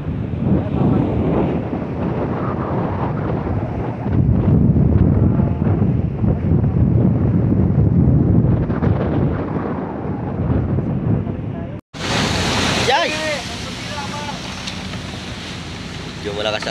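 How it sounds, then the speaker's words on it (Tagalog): Heavy wind buffets the microphone in a steady loud roar over choppy sea swells on a small fishing boat in the West Philippine Sea, then a cut to a brighter, hissier gust with a voice speaking underneath. "Medyo malakas ang alon mga idol."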